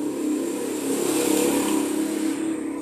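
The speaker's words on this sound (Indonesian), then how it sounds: "Ini ada motor yang ketika putaran atas motor ini tuh seperti hilang ngedrop tenaga" A Suzuki Satria F motorcycle engine that loses power at top RPM revs hard and steadily at high speed, loud and close, with no talk.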